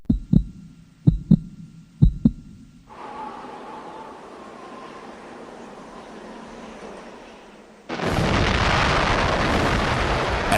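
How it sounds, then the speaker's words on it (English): An atomic bomb test explosion arrives as a sudden, loud, broad roar that keeps rumbling without a break. It follows a few sharp thumps and a low, steady hum. "As the atom bomb experiments continued"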